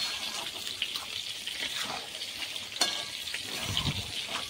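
Fish heads fried with leafy greens in a pan give a soft, steady sizzling hiss, with light stirring scrapes now and then; the sound is faint and continuous.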